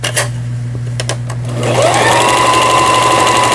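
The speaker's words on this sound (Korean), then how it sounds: "요 직선 바느질 박아보겠습니다" A Janome Lion 419s sewing machine sews a straight stitch, starting after a few clicks and then running in a fast, steady whir at close range.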